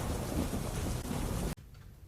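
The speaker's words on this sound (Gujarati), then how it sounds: "સુરેન્દ્રનગર શહેરમાં વીજળીના કડાકા ભડાકા સાથે મેઘરાજાનું ધમાકેદાર આગમન થયું" A thunderstorm with heavy rain in Surendranagar city, Gujarat: a loud, dense roar of rain and rumbling thunder that cuts off abruptly near the end.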